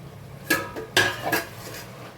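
A metal lid lifted off a pot of cabbage cooking with fish heads, two sharp clinks of metal on metal about half a second apart followed by a lighter rattle, close and brief, no talk.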